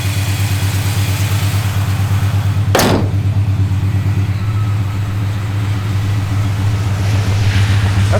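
A 1974 Plymouth Road Runner engine idles smoothly with a steady low, even rumble close by; a brief whooshing sweep passes midway and the motor keeps running alone at constant level.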